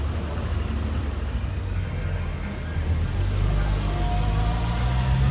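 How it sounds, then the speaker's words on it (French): Ferrari 812 sports car arriving behind a blue Audi RS7 in Monaco during the Formula 1 Grand Prix, a low engine rumble that swells gradually as it approaches amid street ambience. "812 qui arrive derrière cette belle RS7 bleue"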